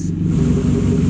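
A car engine running on rubbing alcohol as fuel, still cold: a steady, even low idle rumble with a faint rhythmic pulse, close and alone for a brief moment.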